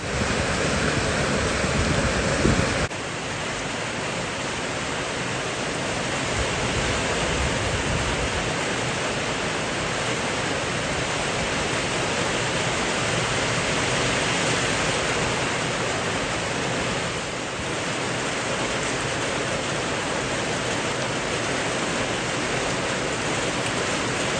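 Heavy rain falls in a steady, dense hiss that stays loud and constant throughout, with no voices.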